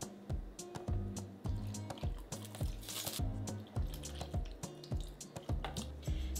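Bean broth poured into a pan gives a quiet run of repeated drips and liquid splashes in an irregular, bubbling rhythm, close by and with no talking.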